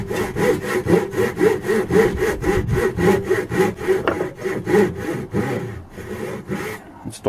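A hand saw cuts wooden dovetails for a small box in steady rhythmic back-and-forth strokes, loud and close, slowing and stopping near the end with no talk.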